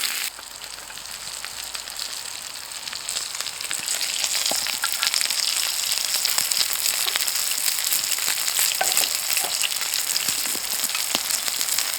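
Potatoes frying in a cast iron pan on a firebox stove outdoors, a steady close sizzle with fine crackles and spits that grows slightly louder partway through.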